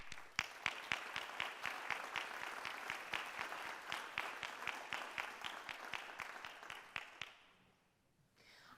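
Audience applause for honored students at a college honors convocation, a sustained wash of many hands clapping with a few sharp distinct claps standing out, fading to near silence at the end.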